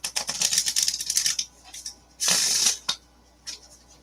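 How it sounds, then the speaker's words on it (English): A deck of cards for the Marvel United X-Men board game is shuffled up close in quick riffling bursts: a long flurry, a short pause, another crisp burst, then a few faint taps. "It's called shuffling, my friend."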